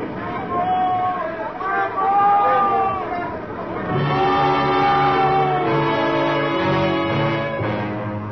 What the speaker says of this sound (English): Then there was one night when shouting on deck woke me up.